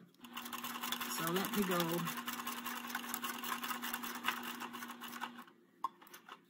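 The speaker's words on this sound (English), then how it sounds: "So I'm sewing it in a little bit to make sure that I get the bottom one." A sewing machine hums at a steady whirr for about five seconds while stitching elastic onto a washable fabric face mask, up close, before stopping; someone speaks briefly over it.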